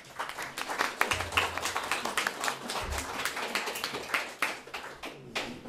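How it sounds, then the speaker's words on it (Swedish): A room full of people applauding to welcome a guest and panel, dense overlapping hand claps at steady loudness for several seconds, with no voices standing out. "En applåd tycker jag alltid ska ge."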